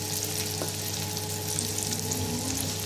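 Carrots fry in reused oil that earlier fried kingfish, a dense, continuous crackling sizzle held close and steady throughout, with a faint clink partway through.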